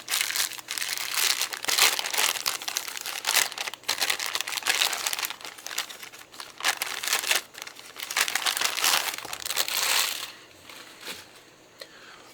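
Packaging for a Zeiss Batis 25mm f/2 lens is unwrapped close by, with continuous crinkling and rustling of paper and plastic in dense bursts that ease off near the end.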